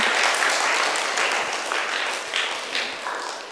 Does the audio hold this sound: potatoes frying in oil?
no